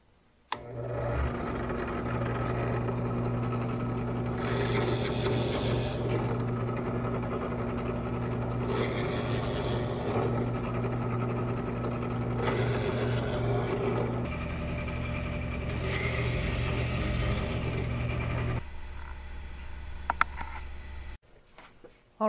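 A scroll saw cutting an oval in wood runs with a steady, buzzing mechanical drone throughout, its pitch shifting slightly as it cuts, before stopping abruptly near the end.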